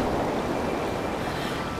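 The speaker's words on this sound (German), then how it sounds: "ist ein Wasserfall." Steady broadband rush of a waterfall in Zelda: Breath of the Wild, a dense unbroken roar of falling water that holds even and moderately loud throughout with no voices.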